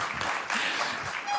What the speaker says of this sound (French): Je crois que c'est les investisseurs qui applaudissent